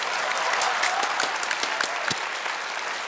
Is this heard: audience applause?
yes